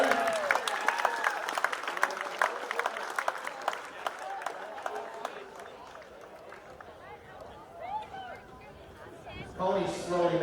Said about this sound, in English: how about another round of applause for both these teams?